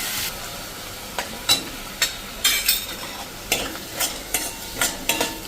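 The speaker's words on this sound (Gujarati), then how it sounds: "અને હવે આને આપણે થોડુંક કૂક થવા દઈએ 2 થી 3 મિનિટ, એટલે આપણા વટાણા અને કાંદા બંને સરસ કૂક થઈ જાય." Peas and onions cook in a pan, giving a soft background sizzle broken by repeated sharp scraping strokes of stirring, steady and close, with no talk.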